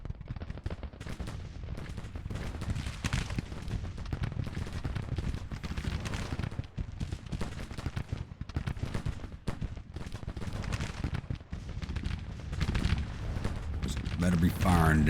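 Heavy massed rifle and cannon fire rolls on without pause in a Grand Tactician Civil War strategy battle near Atlanta. The loud sustained volleys cover a voice talking over them.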